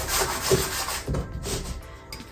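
Dry, soft scratching of a pastel stick dragged sideways across a canvas, a few uneven strokes close by and quiet, with no voices.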